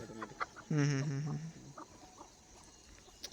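Free-range village chickens on a dung heap give one loud, close, harmonic call lasting under a second, followed by a few faint, scattered clucks.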